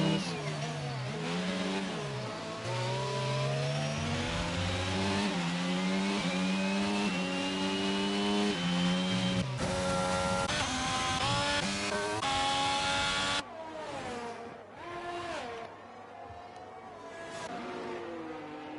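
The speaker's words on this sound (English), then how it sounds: "We are on board with Doward here, going to try and make a move on the Haas drive" Formula 1 race car engines roar in a racing video game, sustained high-pitched revving with rising and falling gear changes, loud and continuous, shifting to a different engine pass in the final seconds.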